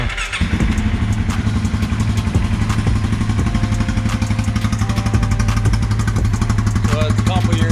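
Polaris Sportsman 570 ATV fitted with an MDRP aftermarket muffler, engine running steadily with a loud, rapid exhaust putter throughout, close by and uninterrupted.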